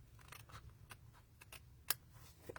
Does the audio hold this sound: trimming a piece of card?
yes